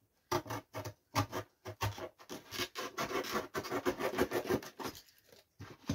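Scissors cut through cardboard in a series of crisp, scratchy snips and rasping crunches, some quick and separated, others running together in a longer stretch of rough cutting, close and fairly quiet with no talking.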